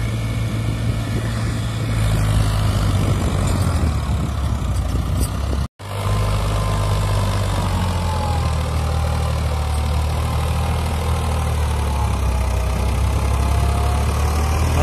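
Eicher tractor engine labouring while hauling a heavy machine over a rough track, a loud, steady low drone running throughout with one brief dropout partway through.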